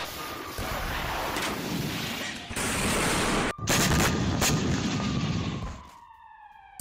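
Loud, dense rumbling blasts and crackling bursts from wartime explosions near the Black Sea fill the air, with a sudden cut and renewed explosions before fading to a thin siren-like whine.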